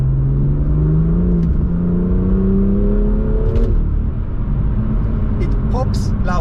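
A car's exhaust with a sport catalytic converter drones and rises in pitch as the engine revs under acceleration while stationary, loud and close, with a voice speaking over it near the end.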